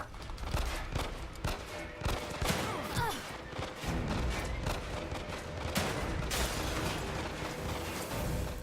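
Gunfire in The Evil Within 2 comes as a dense, irregular string of shots and bursts with mechanical clatter, loud and nearly continuous throughout with occasional stronger blasts.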